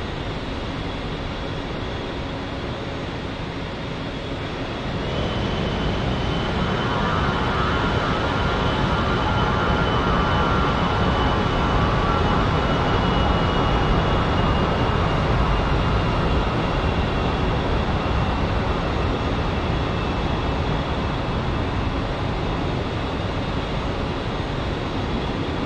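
Twin jet engines of an A-10C in the DCS flight simulator spool up for the takeoff roll, a steady loud roar with a high whine that builds after a few seconds and holds, with no voices over it.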